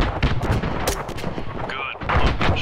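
A rocket fires in ArmA 3 amid loud, close bursts of gunfire and booming blasts in quick succession, with a voice speaking briefly over the din.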